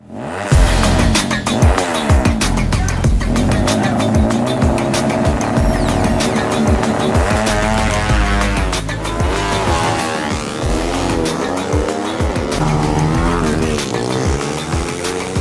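Kawasaki Ninja motorcycles in a street race, engines revving loudly and continuously with rising and falling pitch sweeps as bikes accelerate and pass close by, plus tire squeal, without talk.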